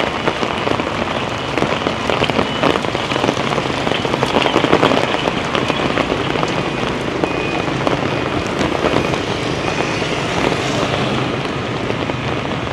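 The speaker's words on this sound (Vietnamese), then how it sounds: "hết bão xong lại đến mưa lớn lũ lụt" Heavy rain pours over a street in Hanoi in the days after Typhoon Yagi, a loud, steady hiss and patter of drops on surfaces with no break.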